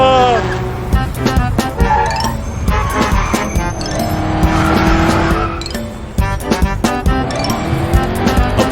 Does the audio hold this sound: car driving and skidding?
yes